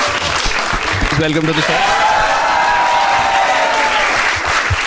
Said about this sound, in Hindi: Start clapping for the 3 contestants for today.